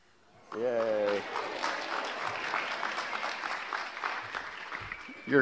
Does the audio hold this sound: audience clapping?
yes